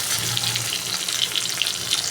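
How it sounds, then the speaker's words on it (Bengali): Tomatoes added to onions sizzle steadily in a hot pan for a Bengali pabda fish curry, a continuous close crackling hiss with no talking. "এবার আমি এর মধ্যে দিয়ে দিলাম টমেটো টমেটোটা দিয়ে বেশ কিছুক্ষণ একটু ভাজা ভাজা করে নেব"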